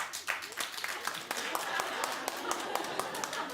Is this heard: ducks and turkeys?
no